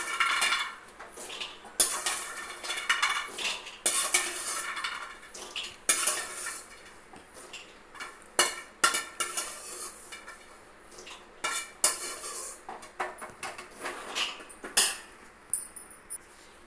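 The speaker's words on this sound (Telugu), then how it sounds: "ఇప్పుడు మళ్ళీ వేసి చూపిస్తున్నాను మీకు కంపల్సరీ నెయ్యి వాడాలి నేతిలోనే వేయించుకోవాలి" Cashews stirred in ghee in a metal pan make busy, uneven scraping and clattering, close and fairly loud, with only a faint sizzle beneath and no speech.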